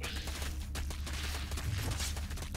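A Zerg Queen fires rapid bursts at a Phoenix in StarCraft 2, a dense, steady crackle of shots with a low rumble underneath that continues throughout at fairly even loudness.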